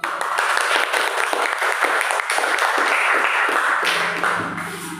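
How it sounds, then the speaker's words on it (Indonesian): A class group claps together at the end of a group session. The applause is loud, steady and close, a dense patter of many hands that runs throughout and eases slightly near the end. "kita beri aplaus dulu untuk kita semua"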